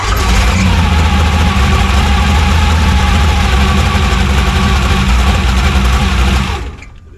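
A '56 Chevy gasser's engine lights off on the ignition and settles into a loud, deep, lumpy idle that rumbles steadily close by for several seconds before cutting away.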